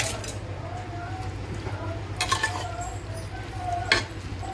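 Chicken pieces sizzle in a pan with onions as a spoon stirs and scrapes, with light clinks of metal against the pot and a couple of louder scraping bursts.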